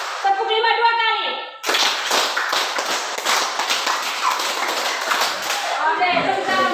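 A classroom group of children claps hands together in a dense burst of rapid slaps lasting several seconds, loud and close, with children's voices talking before and after.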